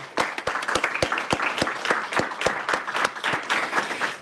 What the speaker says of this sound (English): So I ask you all to join me in a round of applause for our speakers as we end now.